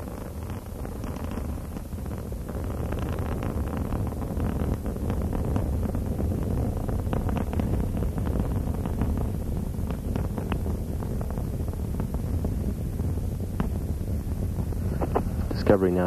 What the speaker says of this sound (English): Three engines on board Discovery now throttling back to two-thirds throttle